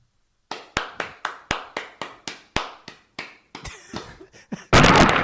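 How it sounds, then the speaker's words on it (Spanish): One person claps alone, sharp single claps in an even rhythm that grow uneven and weaker, then end in a sudden loud noisy burst. "Creo que es tan mal aplaudidor que en un momento le erra a la palmada"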